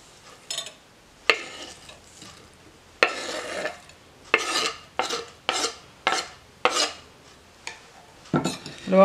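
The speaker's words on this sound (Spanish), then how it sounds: "Lo vamos a revolver bien." Onion stirred into a pot of beef feet for tostadas, with a utensil scraping and clattering against the pot in a steady series of loud, close strokes and faint sizzling between them.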